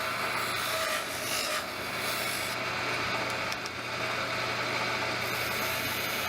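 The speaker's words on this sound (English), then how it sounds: "I tried kind of digging into the wood to see what would happen." A continuous, loud grinding rasp of a lathe tool digging into spinning wood, steady and harsh with a motor hum underneath, no talking.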